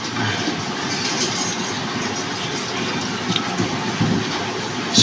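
Heavy rain pouring down outdoors with flooding, a dense steady hiss and roar throughout, loud and continuous, with no talking.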